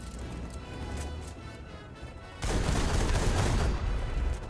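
Enemy .50 cal machine gun fire in War Thunder rattles in the distance, then jumps to a louder, dense stream of rapid shots that continues steadily to the end.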